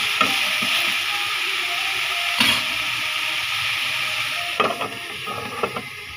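Boiled lentil mash for dal bhorta fries in a pan over low heat, a steady close sizzle with occasional scraping stirs and clinks of a utensil, no talking.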